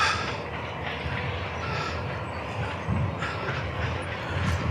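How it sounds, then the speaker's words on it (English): A train rumbles past close by, a continuous loud roar with rhythmic rattling of the wheels and no talking. "Yeah, we've got a train."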